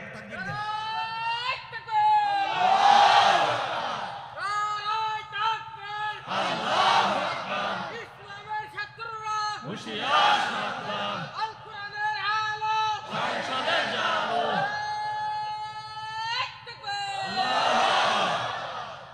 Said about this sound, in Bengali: জোরে আওয়াজ করে বলেন লিল্লাহে তাকবীর।